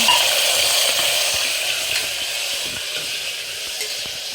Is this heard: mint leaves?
yes